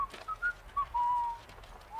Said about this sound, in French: Ah, arrêtez de siffler.